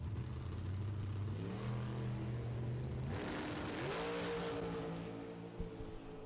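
Drag race car with a 443 engine on a single 4-barrel carburetor at Kil-Kare Dragway, a loud engine launching and climbing through rising revs, with a gear shift midway, then pulling hard again with the roar fading slightly.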